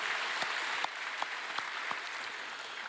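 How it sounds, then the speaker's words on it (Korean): Applause from a church congregation during a worship service, a steady dense wash of many hands clapping throughout, with a few sharper individual claps standing out. "박수를 올려드리겠습니다"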